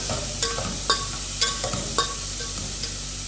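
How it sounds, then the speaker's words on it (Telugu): Onions and green chillies frying in a pan for dal while a ladle stirs them, with a steady close sizzle and several sharp scraping strokes spaced about half a second apart. "ఇదంతా కూడా ఇట్లా వేపుకుంటూ ఉండాలి"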